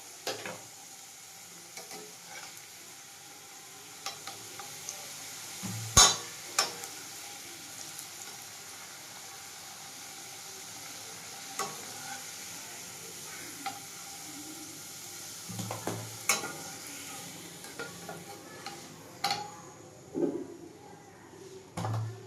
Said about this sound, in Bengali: আলু ভাজা হয়ে গেছে, এবার একে একে তুলে নেব।